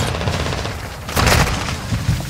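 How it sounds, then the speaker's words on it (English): Heavy gunfire in a multiplayer shooter, loud overlapping shotgun blasts and booms packed close together with a sharp louder burst partway through. "Shotguns again."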